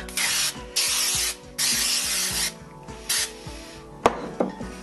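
Spray adhesive hissing onto a lathe sanding disc in several sharp bursts of about a second each, close and loud, with a couple of light knocks at the end and no talk.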